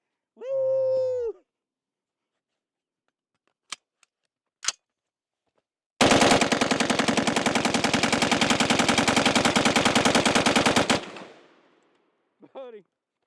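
A PWS MK111 Mod 2 rifle fires on full automatic in one long, loud, continuous burst of about five seconds, preceded by a few short clicks and brief voices before and after.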